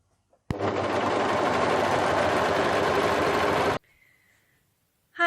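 A sewing machine stitches around a turtleneck's neckline being turned into a scoop neck, a single fast, loud, even whirring run lasting about three seconds that starts and stops abruptly, followed by quiet.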